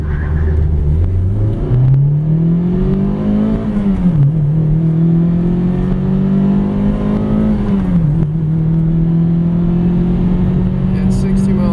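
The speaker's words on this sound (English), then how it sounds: "getting up to 60 miles per hour, starting off at a stop at 0 miles per hour and going up this hill." A 2000 Toyota Celica GTS accelerates hard from a standstill to 60 mph up a hill. The engine note climbs loudly, drops at two gear changes, then rises again, all heard from inside the car.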